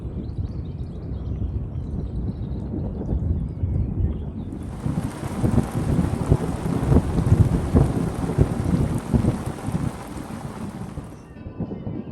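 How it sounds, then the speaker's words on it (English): Heavy rain pours down at a lake during a night-time carp fishing session, a dense roaring downpour with rumbling thunder and gusts of wind buffeting the microphone, loud and close throughout with no talk. "it's starting to tip down with rain and the thunder is getting ridiculous"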